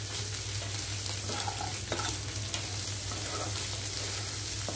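Egg and chopped capsicum fry in a pan with a steady, close sizzling hiss, punctuated by a few light stirring scrapes, with no talking.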